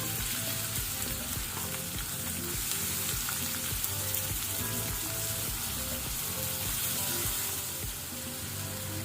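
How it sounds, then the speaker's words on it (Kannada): Onion slices frying in about two tablespoons of hot cooking oil in a pan, a steady dense sizzle and crackle running unbroken from start to finish, close and moderately loud with no talking. "ಈಗ ಎಣ್ಣೆ ಬಿಸಿಯಾದ ನಂತರ ಒಂದು ಅನಿಯನ್ ಈರುಳ್ಳಿ ಹಾಕೋಣ"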